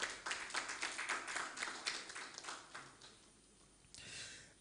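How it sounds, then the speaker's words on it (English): A small audience claps briefly for a senior research fellow at a forum on constitutional amendment, scattered close-up claps thinning out over a few seconds into quiet. "A round of applause for him,"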